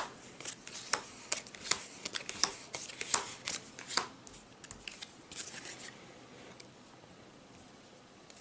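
A deck of cards from the Ascension: Chronicle of the Godslayer deck-building game is riffled and shuffled close by, bursts of quick flutter and snap that grow sparser and softer toward the end.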